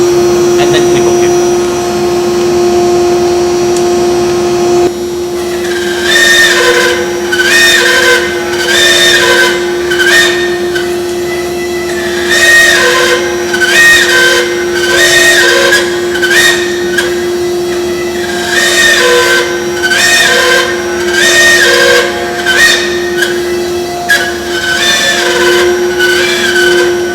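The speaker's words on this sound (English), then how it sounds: "So now this will tell you that you have to start the spindle." A ShopBot CNC router spindle whines with a steady high tone, joined after a few seconds by rhythmic bursts of cutting noise that repeat through the clip, loud and close, while a person speaks in places.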